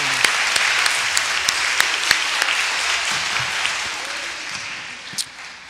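An audience at a school Christmas program gives a sustained round of applause, a dense, steady wash of clapping with a few sharper claps standing out, easing off slightly near the end.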